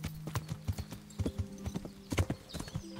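Horse hooves clip-clopping in Kingdom Come: Deliverance, a quick, steady run of close hoof strikes on the ground with no talk.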